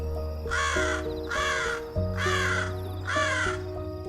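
Four loud, harsh crow caws spaced about a second apart, each a drawn-out rasping call, ringing out over a steady low drone and sustained tonal music.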